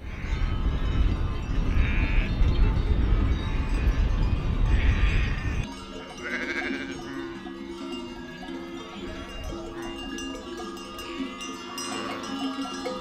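A shepherd's flock of sheep and about 35 goats bleat repeatedly while bells clank among the flock. The first few seconds are loud and noisy, then it quiets down.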